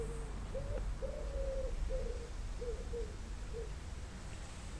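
A pigeon coos softly outdoors in a garden, with a series of low, short hoots over steady background noise.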